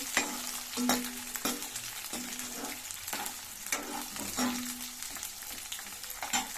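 Onions sizzle softly in a pan while fenugreek-leaf onion curry cooks, with steady frying crackle broken by repeated stirring scrapes and clinks of a spoon against the pan.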